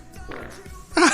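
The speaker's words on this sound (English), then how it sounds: "There is a fart noise." An object gives off a short, buzzy fart noise: a low rumble that ends in a louder, raspy burst, heard up close.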